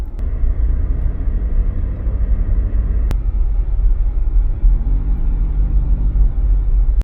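Steady rumble of cars passing on a highway about 10 km beyond Ufa in the Ural region, continuous loud traffic noise with no break and no voices.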